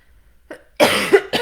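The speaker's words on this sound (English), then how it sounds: "Excuse the coughing." A person coughs close to the microphone: a short cough, then a longer, harsh burst, and one more brief cough right after.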